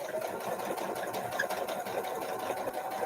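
Sewing machine stitching straight-line quilting, a fast steady whirring chatter of needle strokes running continuously up close.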